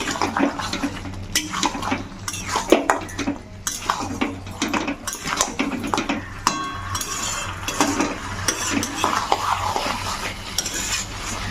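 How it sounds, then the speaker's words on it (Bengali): Mutton fried and stirred in a pot, with a spoon scraping and clanking against the metal in busy irregular strokes over a bubbling sizzle, close and fairly loud, no talking. "আবারও মাংসটাকে ভালো করে কষা নেব"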